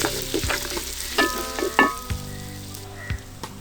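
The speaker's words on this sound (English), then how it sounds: "Now she is adding some chopped onions and stirs it well." Chopped onions stirred into a ginger-garlic mixture frying in a pan, with steady sizzling and several distinct spoon scrapes and knocks against the pan.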